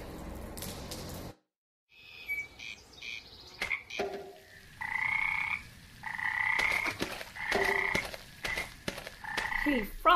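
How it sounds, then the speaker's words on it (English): Frogs in a lake within the Memoranda video game croak in repeated tonal calls, bursts alternating with short pauses, loud and close with no talking. "I wonder if the frogs in the lake know something about this."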